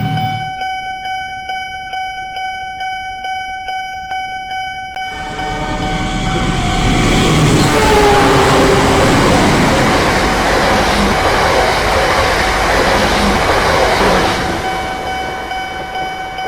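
In a video game, a train rolls through an Indonesian level crossing: steady tones from the crossing signal come first, then a loud, close rumble of wagons and clatter swells, peaks and fades slightly, with a horn.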